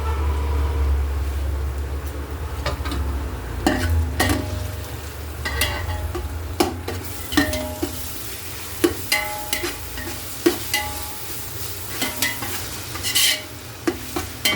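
Ginger garlic paste sautéing in a pan for chicken biryani, a steady sizzle broken by repeated scraping and stirring strokes of a spoon, close up, with no talking.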